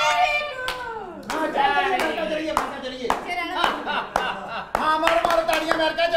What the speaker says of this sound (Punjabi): ਬਾਹਰੋਂ ਤਾੜੀਆਂ ਮਾਰੋ